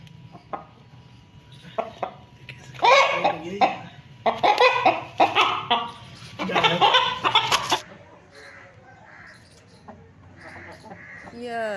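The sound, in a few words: pet hens clucking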